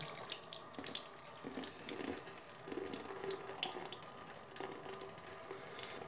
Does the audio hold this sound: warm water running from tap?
yes